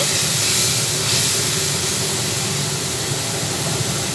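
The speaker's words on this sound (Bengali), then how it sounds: "এরপরে এই মশলার মধ্যে অল্প করে জল দিলাম জল দেওয়ার পরে ভালোভাবে নাড়াচাড়া করে নিচ্ছি" A loud, steady rush of steam and hiss as water is poured onto hot fried spices in a pan while making banana-flower mochar ghonto, filling the whole moment without pause.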